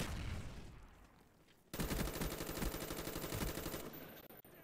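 Rapid gunfire from a shotgun in the Black Ops video game, a sudden loud burst of repeated shots that runs for several seconds after a quieter stretch.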